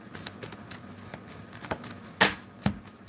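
A deck of tarot cards being shuffled by hand, soft riffling and slapping sounds close up, with a few sharper card snaps near the end and no voices.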